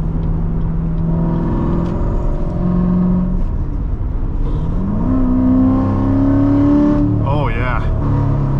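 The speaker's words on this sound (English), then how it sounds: "The car becomes louder." 2016 Chevrolet Corvette Stingray with a seven-speed manual in track mode, its engine loud from inside the cabin, revving and climbing in pitch through a corner, while someone talks over it.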